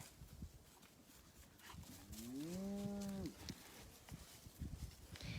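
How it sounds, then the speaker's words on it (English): A Hereford cross calf lets out a single clear, rising moo lasting about a second, close by, set against faint background rustle and wind. "This is one of our Hereford cross calves."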